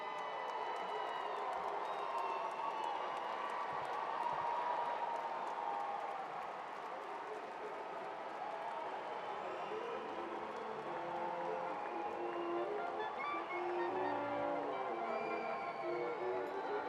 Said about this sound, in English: Please join me in another round of applause for our graduates.